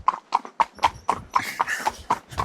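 Horse hooves clip-clop in a steady, even rhythm on a track during a ride, close and fairly loud, with about ten distinct hoof strikes and no talking.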